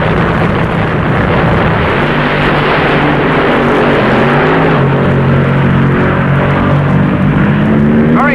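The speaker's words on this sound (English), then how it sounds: "And Beetle surges ahead to dethrone Pradam." Drag racing cars from the mid-1970s launching down the strip at Indianapolis Raceway Park, a loud continuous engine roar with rising pitch as the cars accelerate away, filling the whole clip.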